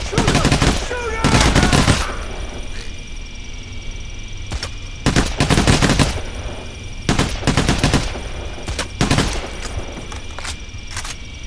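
Rapid bursts of automatic gunfire and single shots in the heist shooter game Payday: The Heist, loud and close, coming in clusters separated by short pauses, with a game hum underneath.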